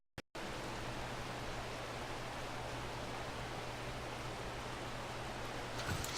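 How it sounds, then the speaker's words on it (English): In a video game map, a waterfall sound effect plays as a loud, steady broadband hiss of falling water with a faint low hum. It starts abruptly after a brief silence and runs on without change. "I also added the sound effects for the waterfalls"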